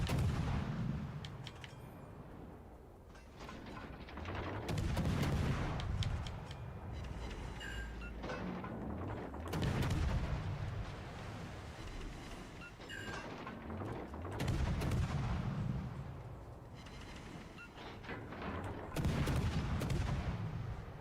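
Heavy battleship guns fire HE shells in World of Warships: Legends, deep booming salvos rolling out roughly every five seconds over continuous naval battle rumble.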